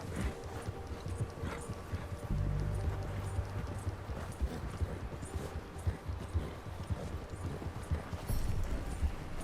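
Horse hooves clip-clop in a steady, rhythmic gait in Red Dead Redemption 2, moderately loud and continuous, with a low hum of game audio beneath them.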